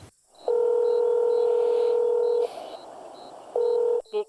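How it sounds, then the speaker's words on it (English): A hotel telephone dials the front desk: a long steady dial tone, a pause, then a brief return of the tone and a quick burst of key beeps, with a faint periodic high beep throughout, close and clear. "Let's call the front desk."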